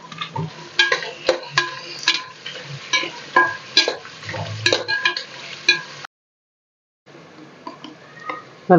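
Onions and mint frying in oil are stirred with a utensil against the pan, giving repeated scraping clinks over a soft sizzle, broken by a brief silent pause before the stirring resumes.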